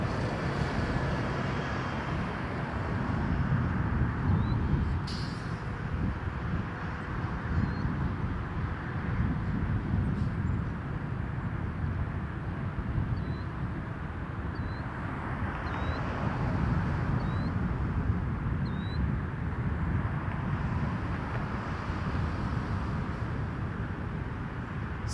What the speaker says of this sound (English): So that was Jazz 993 from LaGuardia on an Embraer 175.